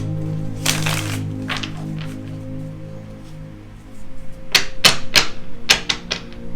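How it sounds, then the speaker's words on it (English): A Universal Tarot deck is shuffled in a few quick papery bursts of riffling and snapping cards. A soft one comes early, then a denser run of crisp flicks follows, over a low steady hum. "I'm just going to shuffle it once more"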